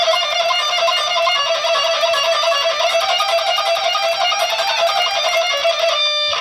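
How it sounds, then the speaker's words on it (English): Guitar single-string picking accuracy exercise, a fast, even stream of rapidly picked notes played continuously and close up, with no talking. "I go online and I find some picking hand single string accuracy exercise that sounds like this."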